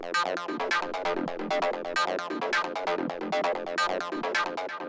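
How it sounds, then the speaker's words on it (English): A buzzy, squelchy Roland TB-303 acid bassline for techno plays a fast, driving repeated pattern of short notes, steady and fairly quiet. "The next thing that we have here is the 303,"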